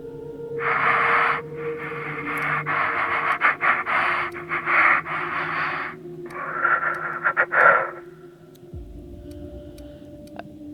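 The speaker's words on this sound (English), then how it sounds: "I can hear someone breathing in there." Muffled, heavy breathing heard from behind a closed door in The Outer Worlds video game, a run of panting, wheezy breaths in bursts over a low hum, fairly close and loud, ending with a dull thump.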